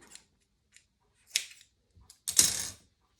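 Scissors trimming chunky chenille yarn, a few faint light snips followed by a firmer close cut, sparse and quiet with no talk.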